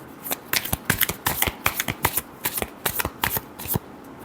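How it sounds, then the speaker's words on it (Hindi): Tarot deck shuffled by hand in a card reading, a close series of rapid crisp riffles and slaps in an irregular rhythm, loud and clear with no voice. "last shuffle,"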